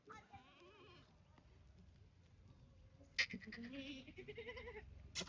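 Kathiawadi goats in a farm shed give a few short bleats, mostly in the second half, with quiet background noise and a faint voice now and then.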